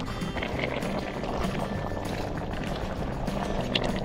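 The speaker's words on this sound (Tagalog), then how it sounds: "Dahil kumukulo na po at ilagay na natin ang itlog." Cooking liquid boils in a pot with eggs about to be added, a continuous close bubbling and churning that runs throughout without talk.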